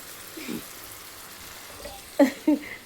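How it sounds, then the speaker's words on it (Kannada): Keema frying in a pan gives a soft, steady sizzle, joined by a few louder stirring knocks near the end, with a faint voice in the background. "ಹಸಿ ಸ್ಮೆಲ್ ಹೋಗೋವರೆಗೂ ಫ್ರೈ ಮಾಡ್ಕೋಬೇಕು"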